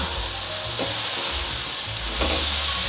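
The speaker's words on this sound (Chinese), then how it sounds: "芦笋放进来就要赶快的炒，不然芦笋就会黄掉了" Asparagus and carrots stir-fried in a hot wok give a loud, continuous sizzle with scraping and tossing swells as the vegetables are turned, close and with no talking.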